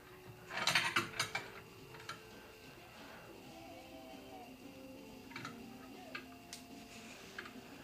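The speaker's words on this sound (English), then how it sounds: "we're going to put the flaring yoke onto the bar" A flaring yoke being fitted onto a brake line flaring bar, giving close metallic clicks and ratcheting taps, with a brief cluster of louder knocks early, then sparse light ticks.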